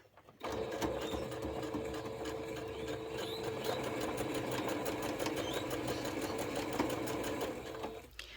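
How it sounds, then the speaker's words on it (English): Sewing machine stitching quilt pieces with a quarter-inch seam, a steady, continuous mechanical whir at close range running for about seven and a half seconds before stopping, with no talk. "I'm going to use a 1/4 inch seam allowance, and I'm going to stitch that through"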